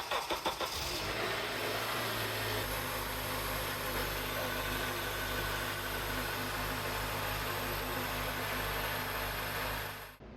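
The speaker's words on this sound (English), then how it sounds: "the last thing we want to do is start the car and make sure the belt sounds good." A 2004 Honda Accord engine is started after a serpentine belt replacement and then idles steadily, a close, continuous mechanical hum with no talking.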